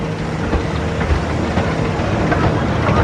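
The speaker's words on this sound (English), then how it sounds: "Great timing when you get the train coming up through here." A train rolls through Blackpool Pleasure Beach amusement park at night, a steady loud rumble with faint rail clatter filling the whole stretch without letting up.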